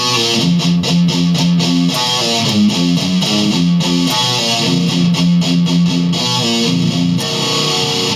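Heavily distorted electric guitar slowly plays a riff, loud and dense with a continuous buzzing tone and a steady, deliberate rhythm of picked notes and chords.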